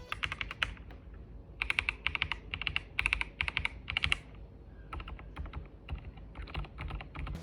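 Mechanical keys on a Logitech K98M keyboard clack in quick bursts of rapid typing, separated by short pauses, crisp and close with no voices.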